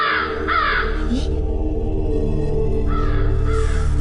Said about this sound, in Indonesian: Ibu dengar suara burung kedasi itu enggak, Bu?